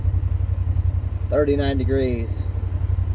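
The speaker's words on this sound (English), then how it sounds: "You can hear the fan running more." A Honda Pioneer 1000 side-by-side engine running steadily with its cooling fan on, a constant low rumble and whir throughout, while a person speaks briefly over it in the middle.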